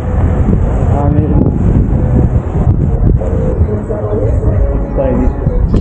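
Wind buffets the microphone on a city walk through Cologne, a loud, continuous rumbling roar that barely varies and drowns out the street behind it.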